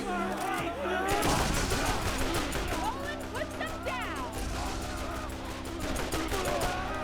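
Rapid gunfire from the Avenger combat rifle in Borderlands, with dense repeated shots and crashing impacts layered over game music and effects, with a voice speaking over the action.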